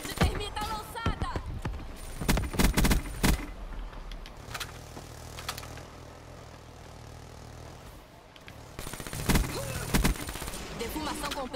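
A thermite bomb thrown in Call of Duty Black Ops 3 sets off a burst of sharp gunfire and impacts, then a steady burning rumble, with more shots and clatter returning toward the end.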